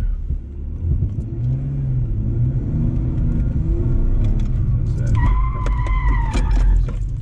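A drift-training car sliding around cones, its engine revving and rumbling under heavy throttle as the tyres skid with a rising squeal near the end, loud and close.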